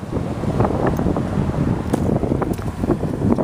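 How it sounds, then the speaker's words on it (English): Gusty wind buffets the microphone outdoors while someone walks, a continuous rough rumble with uneven bursts and no talking. "it's kind of windy right now."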